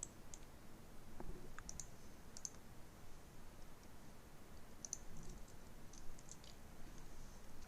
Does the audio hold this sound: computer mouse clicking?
yes